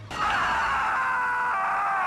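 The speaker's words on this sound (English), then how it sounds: "am I listening to the enemies scream like that?" Enemy pilots screaming over comm links in the 2001 space-combat game Star Wars Starfighter, a sustained, strained, wailing cry that starts abruptly and holds loud and steady for about two seconds.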